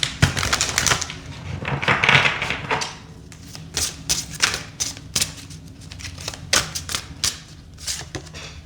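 Oracle cards are handled and drawn from a deck: a quick riffling, papery clatter for about two seconds, then scattered light taps and flicks, close and fairly quiet, with no talk.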